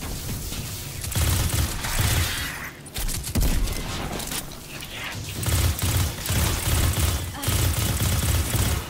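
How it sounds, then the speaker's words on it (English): Rapid submachine gun bursts in Destiny 2 rattle loudly in repeated volleys over dense battle noise. Short gaps separate the strings of automatic fire. "This submachine gun has way too much recoil."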